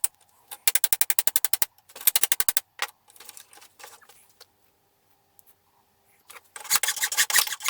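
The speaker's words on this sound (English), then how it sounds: "I just gave the file a quick test" Rapid, rhythmic rasping strokes of a metal file scraping a workpiece, in several bursts separated by short pauses, loud and close.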